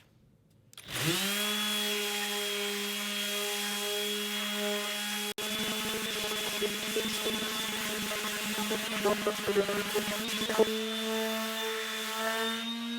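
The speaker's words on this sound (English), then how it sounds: "Now I think he's going to try that finish sanding." An electric finish sander hums steadily and continuously at close range, with scratchy rubbing against cherry wood growing busier through the middle stretch.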